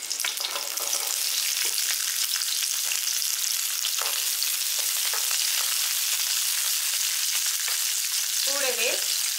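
About twenty small onions fry in oil for a roadside-style onion chutney, a steady loud hiss and sizzle throughout with faint stirring scrapes and no talking.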